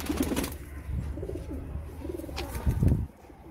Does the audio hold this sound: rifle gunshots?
no